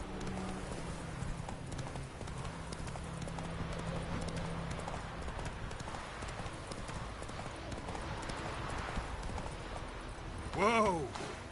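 Roach, the horse from the Witcher 3 video game, gallops in a steady run of hoofbeats under rain-like ambience and game music, ending in a brief loud neigh; voices speak over it.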